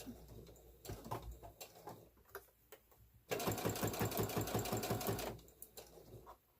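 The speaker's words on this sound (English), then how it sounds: "I am starting to stitch the seam binding on the first part." A sewing machine runs a steady burst of stitching along seam binding for a blue stand mixer cover, using a quarter-inch seam, preceded by scattered handling clicks and fabric rustle.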